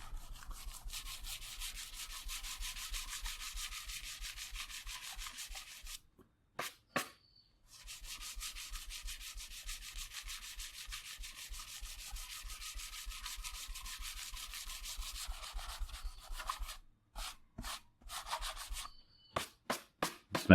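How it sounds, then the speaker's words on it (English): Light hand sanding of a guitar's color coat with 600 grit sandpaper, a steady rapid scratchy rubbing in long runs that pause briefly, then resume in shorter strokes near the end, close and alone. "I'm starting with 600 grit sandpaper. I'm just sanding very lightly,"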